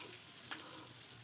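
Onions with cinnamon and chillies frying in a small amount of oil for veg fried rice, a steady soft sizzle with a brief brighter crackle midway, faint and continuous with no talking.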